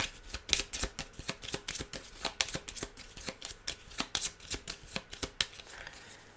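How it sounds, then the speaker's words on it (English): A deck of board game cards for Aeon's End War Eternal is shuffled close up, a quick run of crisp riffling snaps and flicks in an uneven rhythm over a quiet room. "These cards we're going to shuffle."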